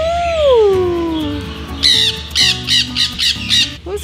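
A sick wild Amazon parrot that was rescued lets out a long, loud, wavering squawk, then a run of sharp, rhythmic squawks close by. No one speaks.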